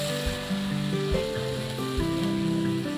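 Rice-flour dosa batter is sprinkled onto a hot oiled pan and crackles into a bright, busy sizzle that stays close and constant, with soft scraping and light spatter throughout.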